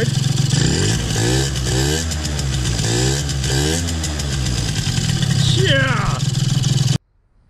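Close, loud revving from a Yamaha BWS Zuma 70cc scooter with an upgraded cylinder, a raspy two-stroke whine climbing and dropping in repeated blips before cutting off abruptly, with someone talking over it.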